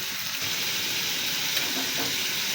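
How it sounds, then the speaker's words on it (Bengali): Small fish fry in a pan with onion, green chilli, turmeric and salt, a loud, even sizzle held close and constant throughout, with faint stirring and no voices. "এইভাবে আমি ছোট মাছগুলো কষাতে থাকি"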